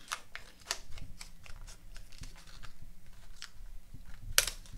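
Scissors snip through a plastic soda bottle in a quiet room, a series of faint close crunchy cuts and crinkles with a sharp plastic crack near the end.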